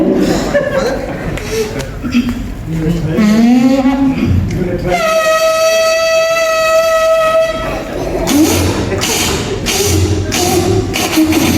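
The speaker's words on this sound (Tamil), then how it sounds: "இது இந்த காலத்து ட்ரெயின் இல்லை, பழைய காலத்து ட்ரெயின்." An old-fashioned train rumbles along, then gives a long steady horn or whistle blast in the middle before the clatter resumes, with voices talking over parts of it.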